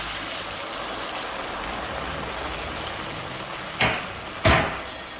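Chicken Manchurian being stir-fried in sauce with vegetables, a steady hissing sizzle throughout, with two sharp clanks of a utensil against the pan near the end.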